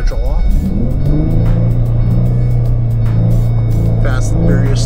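A Ford Mustang engine revs hard and holds a loud, steady roar as the car drifts with traction control off. Someone talks excitedly over the engine throughout.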